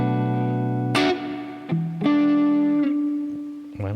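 Fender Telecaster Ultra electric guitar played clean on the neck pickup, sustained chords and single notes ringing out with sharp plucked attacks and smooth decays, a few separate strums across the passage.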